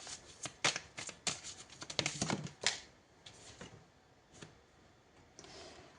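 Oracle cards are shuffled in quick, crisp riffling flurries, followed by a few softer isolated card snaps and slides as one is drawn, close and fairly quiet.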